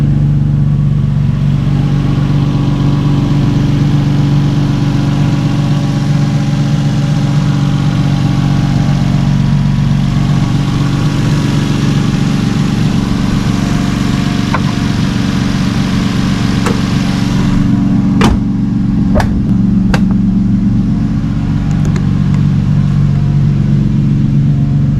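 A car engine idles steadily at close range with a deep, continuous drone, having just had its clutch release cylinder replaced; a few sharp clicks or knocks come through near the end.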